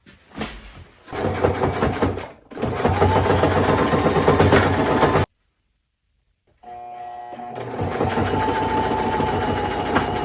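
Domestic sewing machine stitching across the fabric of a thrifted garment's sleeve, a steady close motor whir in two long runs, broken by a short pause and then a stop with near silence before it starts again.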